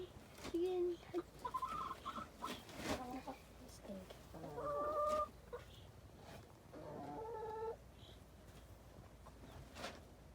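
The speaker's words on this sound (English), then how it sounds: "Chicken." Several chickens cluck and call in a garden, with short bursts of hen vocalizations coming and going at moderate distance while a person speaks softly in between.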